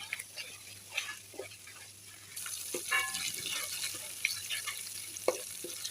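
Crushed garlic frying in oil in a home kitchen pan for achari begun, a steady low sizzle with occasional stirring clinks and brief tap-water sounds, fairly quiet throughout.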